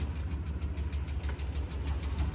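A GMC Sierra 454 big-block idles quietly with a faint rhythmic ticking of lifter tap riding over a steady low rumble.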